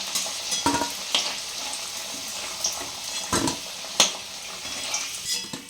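Potato pieces fry in a pan of oil with a soft, continuous sizzle, broken by a few sharp clinks and scrapes of a utensil against the pan.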